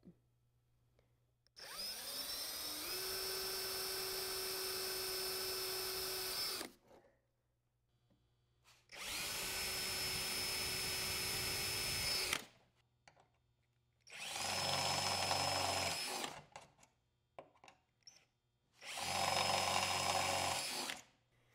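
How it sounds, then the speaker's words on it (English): A power drill drilling a pilot hole in a snowmobile, then a 3/16 bit, whirs in four separate bursts, each several seconds long with quiet gaps between, the pitch dipping as the bit bites into material. "drill in a pilot hole, followed by the 3 16th drill bit"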